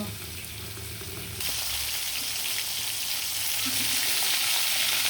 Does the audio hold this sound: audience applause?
no